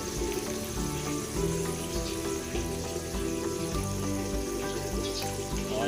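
Bisugo fish cooks in a pan as a little soy sauce goes in, giving a steady bubbling sizzle with watery crackle. It stays close and fairly loud for several seconds, with no voices.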